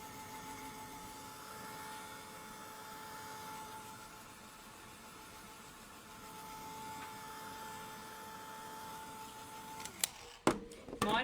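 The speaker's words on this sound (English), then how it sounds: "My heat tool is a lower temperature heat tool as well. It's a Tim Holtz one." A low-temperature Tim Holtz heat tool drying a mixed media art journal page gives a steady whirring blower hum with a faint whine, running evenly until it cuts off abruptly near the end, followed by a few clatters.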